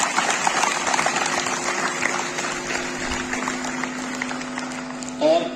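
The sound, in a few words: applause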